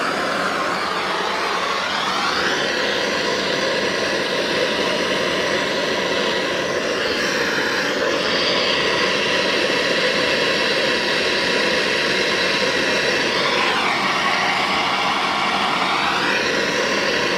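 A torch roars in a continuous, loud hiss as it heats cast brass or bronze plumbing fittings for soldering during a bathroom remodel, its tone wavering as the flame moves.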